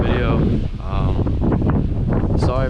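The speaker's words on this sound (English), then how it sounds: "Sorry if there's any background noise. It is pretty windy." Strong gusting wind buffets the microphone outdoors, low rumbling bursts rising and falling while a person talks over it.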